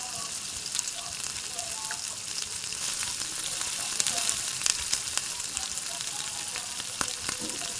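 Potato and cauliflower pieces fry in oil with turmeric and salt, giving a steady crackling sizzle with scattered pops, close and continuous without speech.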